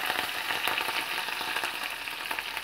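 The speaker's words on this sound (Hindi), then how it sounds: "जीरा अच्छे से भून गया है, अब मैं इसमें हरी मिर्च डाल" Green chilies fry in hot oil with cumin seeds, giving a steady close sizzle and crackle with faint stirring clicks, no voices.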